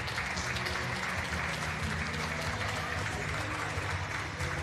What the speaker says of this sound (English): let's take a listen to the fans here cheering on and clapping hands and proud of their team